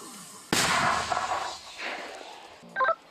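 A single sharp, booming mortar shot goes off nearby, then rumbles and echoes away, followed by a brief electronic beeping.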